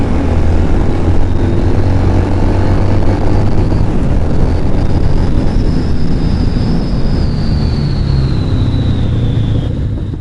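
A Harley Sportster 883L engine accelerates hard, a loud continuous rumbling roar with a rising whine as revs climb, close by and without speech.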